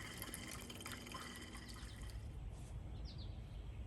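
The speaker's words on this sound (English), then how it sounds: "Now the water fountain is complete." Water dripping and trickling from a homemade hummingbird bird bath fountain with a glass pie pan basin, a soft continuous flow under faint background hiss.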